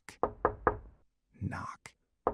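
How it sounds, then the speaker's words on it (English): Three slow, evenly spaced knocks land close and heavy, followed by a brief breathy whisper-like noise and then one more single knock. "A knock. 3 slow knocks."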